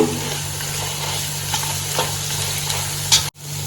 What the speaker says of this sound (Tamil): எல்லாத்தையும் நல்லா கிளறி விட்டுக்கலாம்.